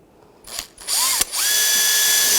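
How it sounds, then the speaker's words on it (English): A small drill bores a pilot hole in the grille bezel of a 2013-2016 Dodge Dart, with a couple of short bursts that rise in pitch and then settle into a steady, close whine. "I'm just gonna take a small drill, just drill right there, and make a pilot hole."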